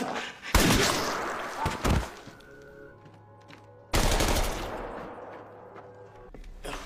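Loud bursts of gunfire crack out in a Squid Game scene, a rapid volley at the start and another sharp blast midway, each trailing off into quieter rumble.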